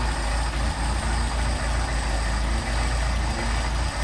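A Mercedes 190SL engine with Solex carburetors idles steadily during idle mixture screw adjustment, a low, even rumble with faint periodic thumps, running alone without voices.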